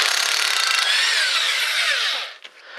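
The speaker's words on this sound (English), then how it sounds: "to make it a little faster, I'm going to use my impact electric tool here" Electric impact wrench spinning off 17 mm bolts during a Dodge 3.0 transmission removal, a loud close high-pitched whirr with a descending tone that runs steadily before cutting off, followed by a brief clunk.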